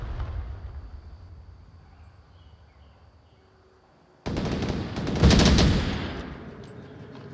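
Suppressive gunfire in the VR video game Onward: after several seconds of quiet background, a sudden loud, dense barrage of rapid shots bursts in and continues to the end, peaking briefly before easing off.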